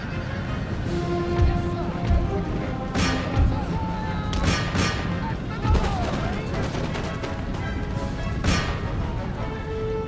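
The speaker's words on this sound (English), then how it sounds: "Let's just stop the cannons from firing" Cannon blasts and crackling musket volleys from an Empire: Total War battle, repeated loud booms and sharp cracks scattered over about ten seconds amid a dense, busy battlefield din, with speech-like voices mixed in.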